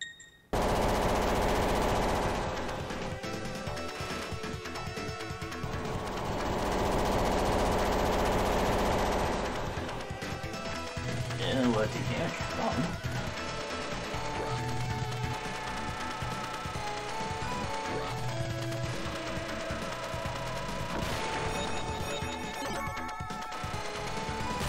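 Homing shots in Gunstar Heroes rattle out as rapid, continuous machine-gun-like fire over driving game music, loud and dense throughout with bursts of explosions and no talking.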